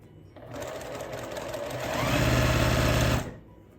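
A sewing machine stitching pieced quilt block fabric along a marked line, a close steady whirring run that speeds up and grows louder before stopping abruptly.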